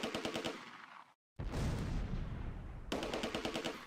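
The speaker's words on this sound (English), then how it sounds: "The mortar and small arms fire continues to cause casualties" Mortar blasts and small arms fire in the World War II tactics game Close Combat, set in the Arnhem suburbs: rapid rattling bursts of gunfire, a brief silent gap, then a long sustained rumbling explosion before the rattling resumes.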